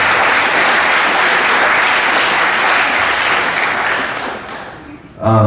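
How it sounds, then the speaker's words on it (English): A school audience at a spring sports awards assembly gives a team a loud, dense round of applause that holds steady, then thins out and fades near the end as a voice comes in. "if you want to go ahead and give those guys a round of applause"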